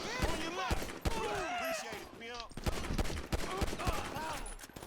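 Rapid gunfire bursts crack out in a GTA 5 bank-heist shootout, including automatic weapons spraying, with excited talk over them.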